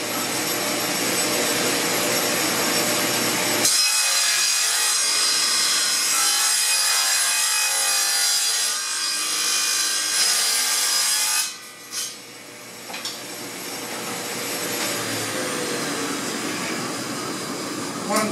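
A table saw takes small bites into wooden boards for bathroom cabinets, its motor whining loudly as the blade rasps through the wood, then dropping briefly before the whirr resumes.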